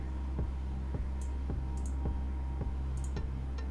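Computer keyboard keys pressed for a Ctrl Shift A shortcut while editing photos: a regular series of crisp clicks, close and moderately loud, about twice per second over a steady low hum.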